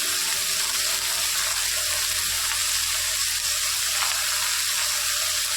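Washed, finely chopped note saag sizzling in a pan as Bengali note saag bhaja cooks, a dense continuous hiss at steady loudness, close by and without talking.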